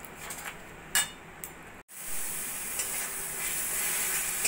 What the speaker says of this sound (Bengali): এবার ভালো করে আমি পাতার পেস্টটাকে নাড়াচাড়া করে একদম শুকনো শুকনো করে নেব